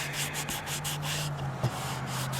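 Oil being rubbed by hand onto freshly sanded wood, a soft continuous scrubbing with a quick repeating rhythm, close and quiet over a low steady hum, no talking.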